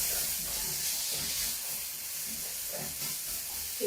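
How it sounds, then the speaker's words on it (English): Tofu green curry stirred in a pan gives a soft, continuous hiss and sizzle with faint scraping, low in level and without speech. "let's get stirring"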